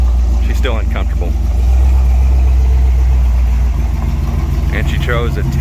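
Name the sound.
1966 Dart with 273 engine being driven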